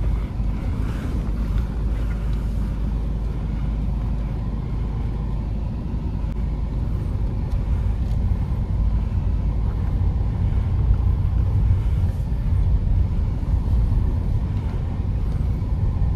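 A Ford EcoSport diesel rolling slowly through narrow streets, heard from inside as a steady low engine drone and road rumble with light wind buffeting, continuous and even throughout.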